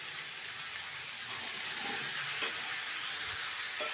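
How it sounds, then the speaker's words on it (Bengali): Boiled potato and young jackfruit fry in hot oil with a steady hissing sizzle, with occasional light clicks from stirring in the pan. "এবার ওই তেলের মধ্যেই সিদ্ধ করে রাখা আলু এবং এঁচোড়টা ভেজে নেব। একটু নেড়ে চেড়ে নিচ্ছি।"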